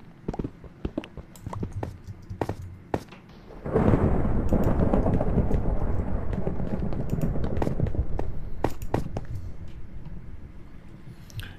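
Thunder from a lightning storm swells into a loud, sustained, broadband rumble partway through, after a stretch of scattered sharp clicks and taps.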